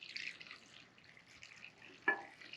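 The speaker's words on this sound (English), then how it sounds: "We're going to go ahead and just pour it right over the top." Warm pickling brine is poured over asparagus in a jar, a faint trickle and soft gurgling with small drips, ending with a brief sharper splash.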